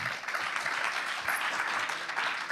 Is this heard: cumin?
no